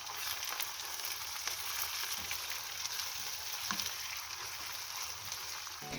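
Finely chopped tomato fries in a pan for aloo gobhi, a steady, faint sizzle and crackle with a few light stirring clicks, continuous and close, with no talking.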